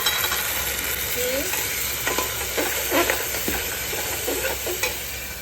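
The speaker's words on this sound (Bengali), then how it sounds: "এই পেঁয়াজটা ভাজা হয়ে গেছে দিলাম এর মধ্যে শুধু আদা আর রসুন" Onion with ginger and garlic frying in a pan: a constant loud sizzle with intermittent scraping strokes of a spoon, close and without talk.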